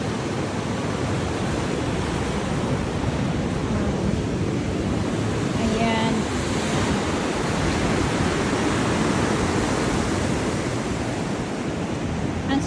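Ocean waves wash continuously against a fishing pier, a broad steady roar of surf with wind, heard up close; a person speaks briefly in the middle.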